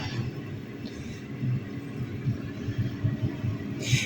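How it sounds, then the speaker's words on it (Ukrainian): An electric fan is switched on just after a heating element is turned off, giving a steady, even whirring hum that runs throughout with no talking. "відкрила і вмикаю вентилятор"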